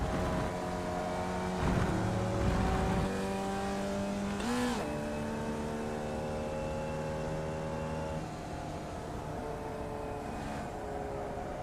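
Race car engine lapping Brands Hatch in a racing game, holding a steady loud drone with harmonic tones that shift as it changes gear, with a sharp rev spike near the middle and continuous engine noise throughout.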